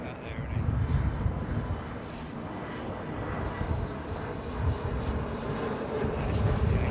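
A Boeing 787 Dreamliner departs London Heathrow with a broad, rumbling jet roar that swells and fades slightly. A voice talks faintly over it.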